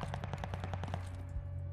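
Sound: STG44 gunfire in Call of Duty Vanguard video game

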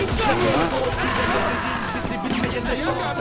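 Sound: gunfire in the video game GTA 5

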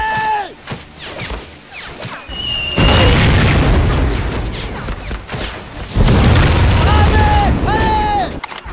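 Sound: mortar fire explosions in the video game Medal of Honor: Pacific Assault

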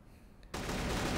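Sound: gunfire in a shootout, from the video game CrossFire

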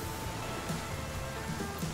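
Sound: rain falling in the video game The Flame In The Flood

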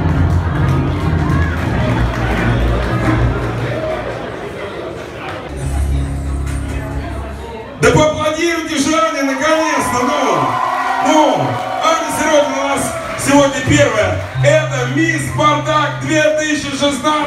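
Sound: audience applauding and cheering at a pageant

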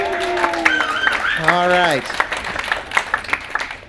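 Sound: audience applause and cheering at a maths lecture

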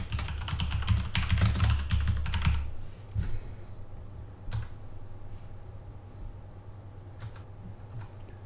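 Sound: typing on a computer keyboard to edit code

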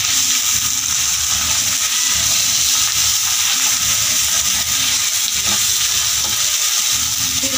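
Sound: egg masala frying and stirring on medium flame

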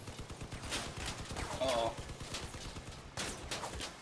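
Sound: auto cannon fire in Crossout video game

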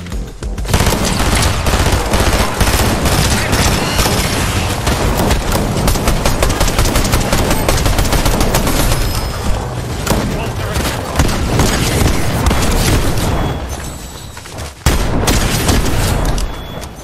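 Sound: sniper gunfire in a video game

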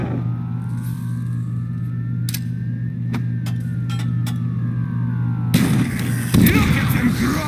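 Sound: weapon gunfire in Call of Duty World at War zombies video game

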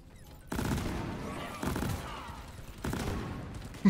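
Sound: explosive chemical rounds gunfire in video game Deep Rock Galactic

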